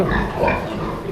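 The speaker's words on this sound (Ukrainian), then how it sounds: "ось отаке порося." A month-old piglet on a pig farm gives low, rough grunts, close and loud, in a short continuous burst.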